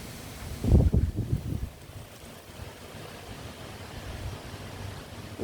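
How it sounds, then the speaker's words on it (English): Wind gusting outdoors beside a backyard swimming pool, a stronger blustery rush near the start easing into a steady soft noise, with no talk. "It's very windy out here today,"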